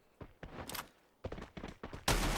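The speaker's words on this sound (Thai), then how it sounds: "โอ้โหปืน ลั่นจัดเลย" Gunfire in the battle royale game Free Fire crackles in quick irregular bursts of shots, fairly faint, with a louder burst at the end and no talk over it.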